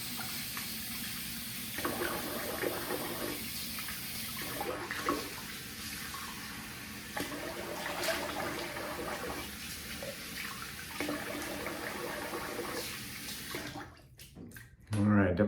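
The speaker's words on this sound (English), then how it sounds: "let's rinse the face" Water runs steadily from a sink tap while a face is rinsed after a shave, a continuous close splashing rush with uneven gurgles and a few clattering knocks at the end.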